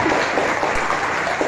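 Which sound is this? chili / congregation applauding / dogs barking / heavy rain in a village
congregation applauding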